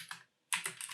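Keys on a computer keyboard are struck in two quick bursts separated by a short pause, crisp and close while a terminal command is typed.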